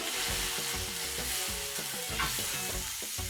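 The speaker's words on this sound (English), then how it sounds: "I'll go ahead again and coat my pan again with some butter" Butter sizzles in a frying pan for banana pancakes with a steady, even hiss throughout, with soft music playing underneath.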